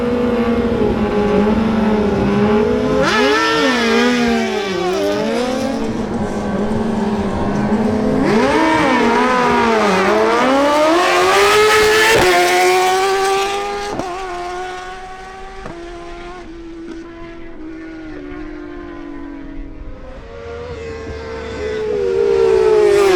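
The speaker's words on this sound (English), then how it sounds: "the Suzuki GSXR1000 motorcycles ridden by Andres Camargo and Damian Camacho face off" Suzuki GSXR1000 motorcycles racing on a track, their engines screaming up and down through gear changes, loud and close, then fading into a lower steady drone before revving again.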